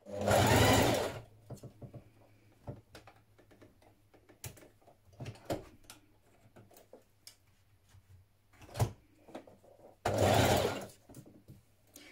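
Sewing machine running in short bursts while stitching bias binding in place on a bias-cut dress, two longer loud runs at the start and end with brief taps and ticks of handling between, no talking.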